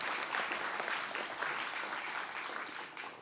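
Audience applause at a live storytelling show in New Hampshire, a full, sustained crowd clapping heard at a moderate distance and fading a little at the close.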